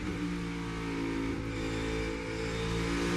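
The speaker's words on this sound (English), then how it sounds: "you heard that downshifting from Joey Logano." NASCAR Cup Series race car heard onboard during a race at World Wide Technology Raceway, a steady loud engine drone with brief shifts in pitch as it downshifts, no talk.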